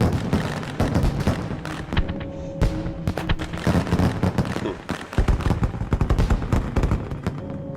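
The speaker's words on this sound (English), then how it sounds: "Fireworks. Nice." Video game fireworks in Fallout: New Vegas at the Sierra Madre crackle and boom in a dense, continuous barrage of sharp bangs and pops, loud and close throughout.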